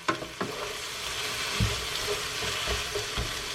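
Four cups of sliced cabbage frying in a pan over medium-high heat, a steady, close hiss of sizzling with occasional soft clanks and stirring bumps, and no talking.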